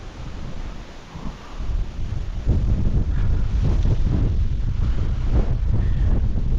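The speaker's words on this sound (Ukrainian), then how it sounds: "Бо саме починається вітер зривається" Steady wind buffeting the microphone outdoors near Bila Tserkva, Kyiv region, ahead of a thunderstorm, low rumbling gusts that grow stronger and stay loud through the second half, with no voices.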